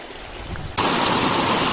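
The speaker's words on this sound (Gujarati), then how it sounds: "આ જો અમારો વોટરફોલ, અહીંયા ના આવવાનું, બહુ ખતરનાક વોટરફોલ છે" A loud, steady roar of rushing water suddenly swells partway through and stays dense and constant, like standing close to a waterfall by a creek.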